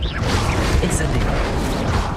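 Incendio fire spell cast in a Harry Potter video game, a dense, loud roaring burst of flame and booming rumble that fills the clip without a break, with a voice speaking over it.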